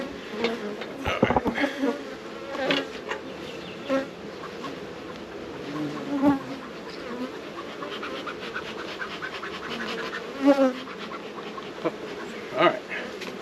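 Honeybees buzzing steadily throughout an open hive during a routine inspection, a dense close drone with occasional scraping and clicking of frames being handled, with brief speech in places.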